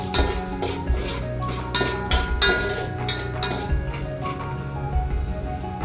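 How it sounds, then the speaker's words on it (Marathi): Dry fruits tossed in two spoons of ghee in a pan, with repeated clinking and scraping of a spoon against metal in an irregular rhythm, close up and steady. "इथे 2 चम्मच तूप टाकलेलं आहे आणि मी ड्रायफ्रुट्स टाकून याला थोडं रोस्ट करून घेणार आहे।"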